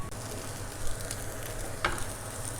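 Onions frying in a pan give a steady, even sizzle with soft crackles. A few brief clinks rise above it, and no one talks.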